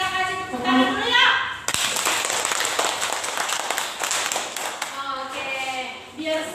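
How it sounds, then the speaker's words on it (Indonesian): A classroom of students claps together for a group presentation during a lesson, a dense burst of hand claps lasting several seconds, with children's voices and a teacher talking before and after. "Kita kasih tepuk tangan dulu ya."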